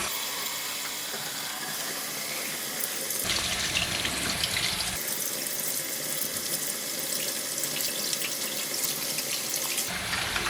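Tap water gushes loudly into a film developing tank, a steady hissing stream that grows fuller and brighter for a couple of seconds and again near the end.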